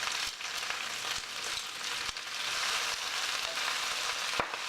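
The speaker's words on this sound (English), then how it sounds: "Going to toss up the greens a little bit, because I don't want the garlic to sit on the bottom of the pan" Wet greens and garlic fry steadily in a hot pan, a continuous close hiss and crackle with occasional sharp pops and clicks of tongs as the greens are tossed; no talking.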